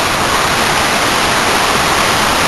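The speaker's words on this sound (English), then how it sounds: "there's a huge waterfall behind that" A huge waterfall in Cloud Canyon roars as a loud, steady, broadband rush of falling water, continuous and close with no breaks and no speech.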